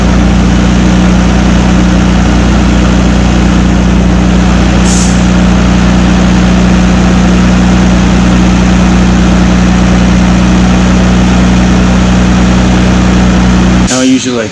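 A Nissan Skyline GTR engine idles steadily and loudly up close, a constant low drone held for the whole stretch, with a brief hiss midway and a sharp clatter at the very end.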